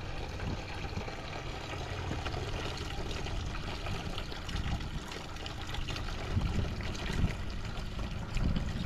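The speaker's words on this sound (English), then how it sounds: "we'll go ahead and turn on the water pump now. As you can see, it's coming out pretty good." Water rushes steadily out of an RV trailer faucet with the water pump running, a continuous splashing flow heard close up and fairly loud throughout.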